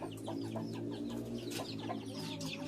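Several chickens cluck and chatter steadily over a low background hum, with overlapping short calls throughout.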